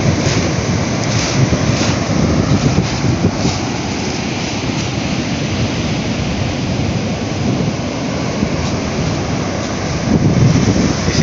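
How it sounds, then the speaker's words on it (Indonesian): Large ocean waves at Suak Berembang beach crash and roar continuously, with wind buffeting the microphone; no voices. "Ini ombak lautnya sangat besar-besar."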